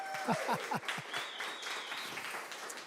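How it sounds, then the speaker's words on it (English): Guests at an annual mitochondrial research cocktail party give a fairly faint round of applause, scattered clapping mixed with voices and chatter, tapering off after a couple of seconds. "Let's give them another round of applause."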